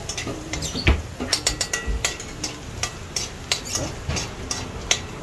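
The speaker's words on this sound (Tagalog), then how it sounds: "Pa-brownin natin ang bawang din guys." Garlic sautéing in a pan with stirring, a soft frying sizzle under repeated scrapes and clinks of a utensil against the pan, close and steady.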